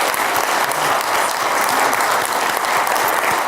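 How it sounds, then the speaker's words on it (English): Steady, dense applause from a game-show style studio audience, loud and continuous throughout with no talk over it. "Let's give them a round of applause"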